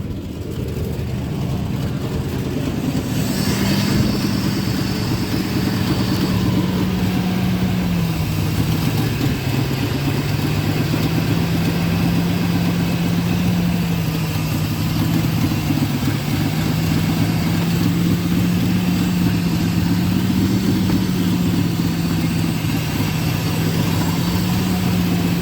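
A 2000 Ford F150 engine idles after start-up, with a steady, loud low chugging drone that dips and rises slightly in pitch as the revs settle, alone and close for about 25 seconds.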